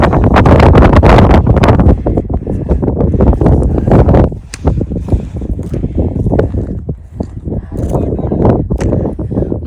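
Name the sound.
strong cold wind blowing on a Himalayan trek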